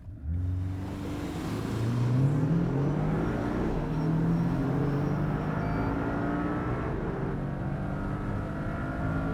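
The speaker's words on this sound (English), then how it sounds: "Let's just nail the gas and go." Four-cylinder flat-four car accelerating hard from a standing start, the engine note climbing steadily in pitch as revs build, heard from inside the car with a constant loud drone.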